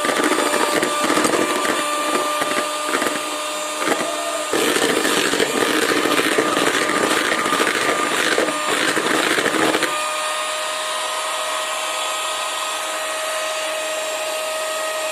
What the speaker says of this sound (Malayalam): നമ്മൾ എഗ് വൈറ്റ്സ് ബീറ്റ് ചെയ്യുകയാണ്.